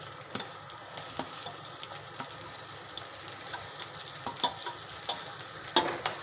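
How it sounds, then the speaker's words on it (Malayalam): Sliced onion dropped into a pan with crackled cumin and ginger, frying in a soft steady sizzle close by, broken by light stirring clicks and taps throughout. "ഞാൻ ഇതിനകത്തോട്ട് സവാള ഇടുകയാണ്"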